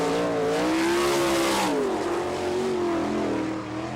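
A sprint car with a Gertie engine on an Eagle chassis runs a qualifying lap at a dirt track in Haubstadt, Indiana, its engine wailing loud and close, pitch rising and falling through the corners.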